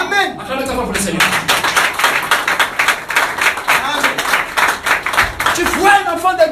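Congregation in a church service clapping steadily in a quick, even rhythm for the Lord, loud and close, with voices rising over and around the claps.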